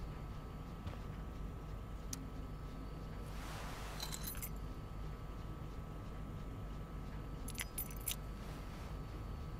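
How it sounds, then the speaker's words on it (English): Keys jangle in the video game Life is Strange: Before the Storm, in two short metallic jingling bursts separated by a few seconds over a quiet, steady background hum. "Bringing David his keys is about the most humiliating thing Mom could ask me to do."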